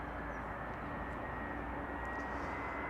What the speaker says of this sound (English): The sound of the 747 behind me is getting louder, and she's also getting closer